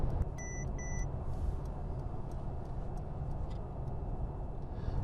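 A Mercedes E-Class turn signal ticks in a steady, faint rhythm of a few clicks, heard inside the car over a constant road and engine hum while it changes lanes.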